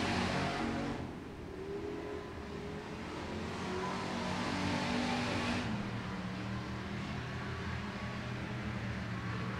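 Hobby stock race cars roar around the track at Lincoln County Raceway during a heat race, a steady loud engine drone with cars passing by throughout.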